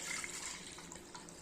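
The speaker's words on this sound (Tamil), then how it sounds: "இனி வந்து நம்ம தண்ணி கலக்கலாங்க." Water is poured into buttermilk, giving a steady soft pour and trickle up close with no speech, quiet overall.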